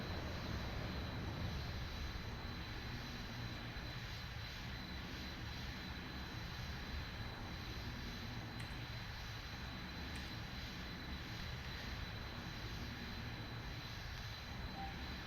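A steady, even jet engine roar with afterburners lit, from an aircraft in a flight simulator game, holding constant without variation and heard alone with no talk.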